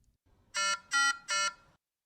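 Oxygenator module alarm sounding for disrupted oxygen gas flow: three loud, evenly spaced electronic tones, each about a fifth of a second, bright and harmonic over near silence.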